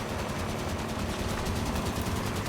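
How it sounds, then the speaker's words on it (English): Warthog turret gun in Halo 5 firing a sustained, dense stream of rapid automatic shots, loud and unbroken, with no speech over it. "Supporting on the Warthog gun."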